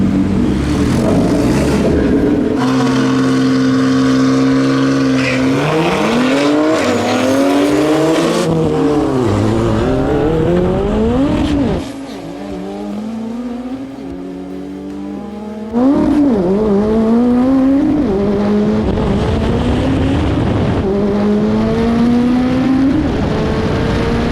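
1000-horsepower Ariel Atom racing a BMW X3M, loud engines revving and climbing through repeated gear changes, with one brief lull and then renewed hard acceleration near the listener.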